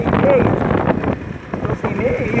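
Wind blowing hard through a sandstorm, a loud continuous gusting roar buffeting the microphone with uneven surges.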